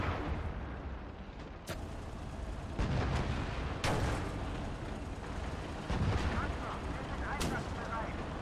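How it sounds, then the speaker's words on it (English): Mortar barrages in Call to Arms: Gates of Hell during a German Operation Typhoon 1941 attack, with repeated sharp blasts and booming impacts a few seconds apart over a constant rumble of battle noise. "let's have the mortars start hitting those positions"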